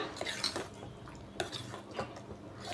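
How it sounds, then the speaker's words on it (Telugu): A spoon scrapes and clinks against a pot as soft-cooked kodo millet is scooped into a bowl, in a run of short, close scoops and taps with no talking. "వీటిని బౌల్లోకి వేసుకుందాం"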